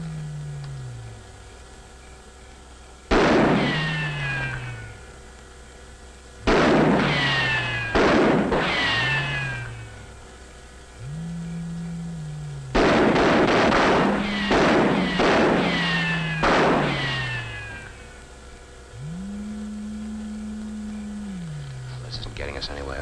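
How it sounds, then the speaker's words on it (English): Soldiers fire rifle rounds at a flying saucer in a 1957 science-fiction film: sharp shots ring out in separated bursts, some in quick clusters, over a low droning score with rising tones. "Maybe if we fired a few rounds, it might scare them out."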